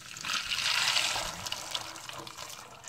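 Salt water is poured from a container onto sunflower seeds, a close splashing gush that swells then tapers into trickles and drips, with no speech.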